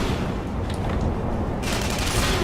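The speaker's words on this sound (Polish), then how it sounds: "Mój Boże, właśnie, rzuci mi granat." Grenade blast in the Tribes Ascend shooter game, a dense burst of explosive noise amid constant combat din, with a sharp brightening near the end.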